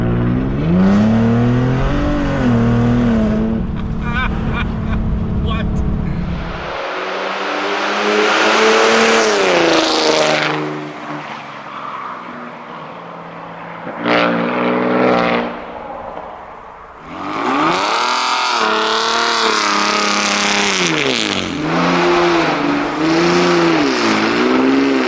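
A decatted 2019 Ford Raptor roars through repeated revs and shifts, its exhaust loud and raspy as the pitch climbs and drops, with quieter cruising gaps between pulls and no voices.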